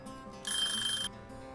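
A kitchen timer rings in the Cooking Simulator video game, a bright electronic trill lasting about half a second over a low background hum, with no talk.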